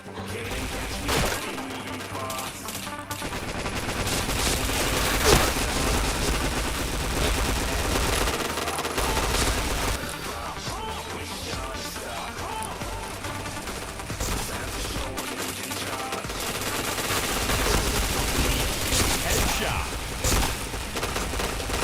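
Dense, rapid gunfire from a shooter video game rattles almost continuously in bursts, with booming shots and a player's voice speaking over the din.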